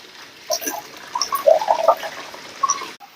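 Water splashing and trickling in short bursts as a saree is rinsed in a basin of plain water after a conditioner soak, close by and fairly soft.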